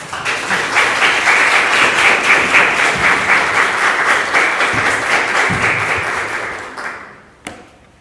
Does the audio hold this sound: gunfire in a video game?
no